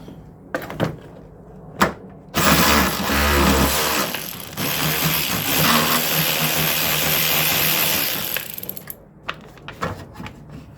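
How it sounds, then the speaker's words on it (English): Bolts come off the back of a 2007 Honda Civic valve cover, with a few metallic clicks and clanks, then a long loud whirring power-tool burst, then more light tool taps and rattles. "So I got to pull these bolts off in the back here."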